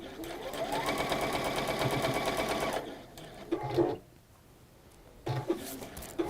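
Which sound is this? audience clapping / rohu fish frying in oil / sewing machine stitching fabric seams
sewing machine stitching fabric seams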